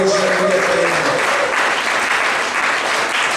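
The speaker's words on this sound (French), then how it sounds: "Est-ce qu'on peut acclamer pour ces trois?" A church congregation breaks into sustained applause, a dense, loud wash of clapping from many hands that holds steady throughout, with a few faint voices mixed in at the start.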